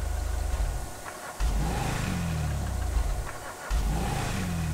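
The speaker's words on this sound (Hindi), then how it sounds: "एकदम हो रहा है इंजन स्टार्ट" Mahindra Scorpio N engine in GTA 5, revving loudly with harmonic rises that climb and drop twice, broken by a brief dip near the middle, heard alone without talk.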